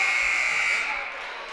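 A basketball game clock buzzer at the end of the third quarter of a girls' high school game sounds a loud, sustained electronic tone that fades after about a second while a commentator talks.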